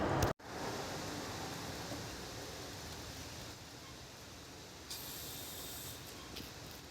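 Aerosol upper engine cleaner hissing steadily into the intake of a 2003 Subaru Forester engine, a continuous close spray after a brief click at the start.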